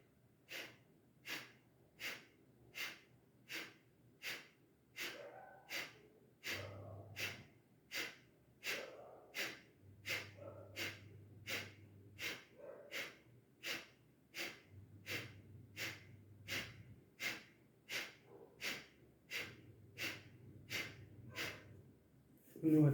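Rhythmic kapalbhati pranayama breathing, a steady series of about thirty sharp, forceful nasal exhalations roughly one per second, close and clear, with a low background hum and no talking.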